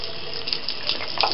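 Cold water runs steadily from a tap, a continuous close splashing hiss with small gurgling surges throughout, heard alone.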